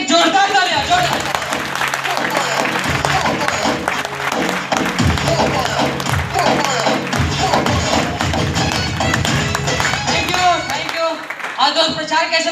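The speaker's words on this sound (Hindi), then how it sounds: "मैं चाहूंगा सबके लिए एक जोरदार तालियां, जोरदार।" Loud applause from an audience at a business plan event in the Regency hotel in Varanasi, dense clapping running throughout with thumps and a voice talking over it.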